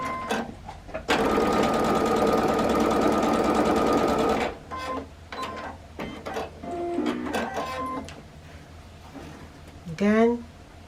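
A sewing machine runs in one steady, loud burst while stitching fabric strips for a Christmas braid table runner, then stops; fabric handling and quiet talk follow.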